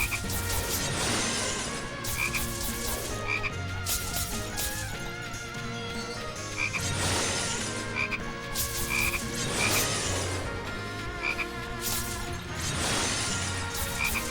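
Frogs croak repeatedly in a Youmu hack-and-slash video game, dense rhythmic croaks layered with periodic crashing slash impacts and game music, loud and busy throughout.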